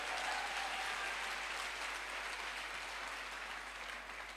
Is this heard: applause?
yes